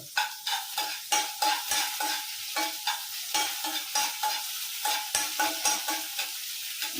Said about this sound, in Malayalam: നമ്മുടെ കടുക് പൊട്ടിയിട്ടുണ്ട്